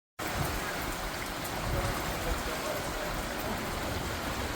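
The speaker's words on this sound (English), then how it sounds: "the rain coming down our rain gutter like a river, and they're just pouring" Heavy storm rain pours down a house rain gutter like a river, a dense, constant rushing splash that starts abruptly and stays loud and even throughout.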